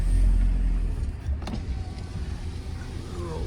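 The power window of a VW TDI car with a CKRA 2.0 turbo diesel rolls up, a steady electric motor hum lasting a few seconds close inside the cabin over a low rumble.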